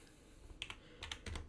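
Quiet keystrokes on a computer keyboard as a layer folder name is typed in Photoshop: a few light clicks, then two quick bursts of tapping, close and soft.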